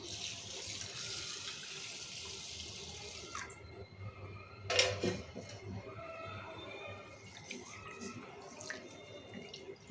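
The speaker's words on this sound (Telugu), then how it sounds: "ఇప్పుడు ఈ బాస్మతి రైస్ని ఒక టూ టైమ్స్ నీట్గా కడుక్కోవాలి" Basmati rice being washed under running water in a kitchen sink, with a steady tap stream and splashing, one louder burst of water midway, and some faint background noise.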